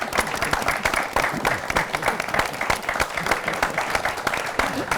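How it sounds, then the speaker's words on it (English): Dense applause from an audience at a stage discussion on individual social responsibility, continuous hand clapping filling the whole stretch at steady loudness, without clear talk over it. "A round of applause for him, please."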